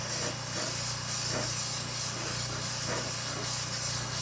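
Kreatex candy paint sprayed in thin coats from a trigger sprayer, a continuous loud hiss with faint rhythmic pulsing, no voices.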